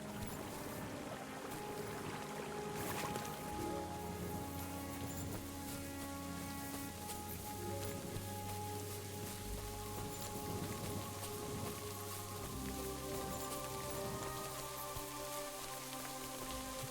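Steady rain falls in the medieval video game Kingdom Come: Deliverance II, a constant dense patter on surfaces that stays fairly faint and even throughout, with no talking.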